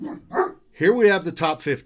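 A dog barks a few short yips in an office while someone talks over it.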